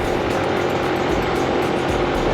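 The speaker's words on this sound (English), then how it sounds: "This bike slowly dies as I go up hills." Motorbike engine labouring in fourth gear while climbing a long hill on a ride through Vietnam's mountains, a steady, loud, close droning roar with a rough rattling edge and constant wind buffeting throughout.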